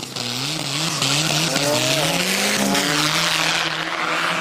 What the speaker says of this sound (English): he's warming up the tires on the hard body